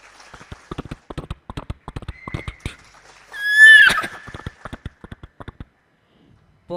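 A performer's voice imitates a horse neighing during a stage mimicry act, a loud, shrill whinny about half a second long that cuts in after a run of clicking hoof-like taps and then gives way to more taps.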